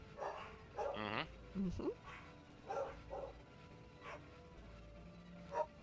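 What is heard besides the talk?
dog barking outside while being walked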